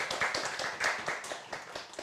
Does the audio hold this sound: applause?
yes